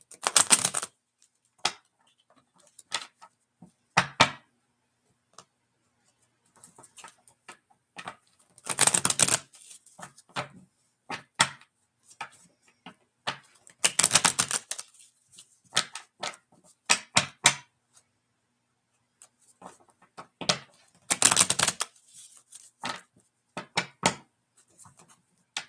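Playing cards shuffled for a tarot-style reading, heard as repeated bursts of riffling and soft slaps separated by quiet pauses, fairly close and alone without talk.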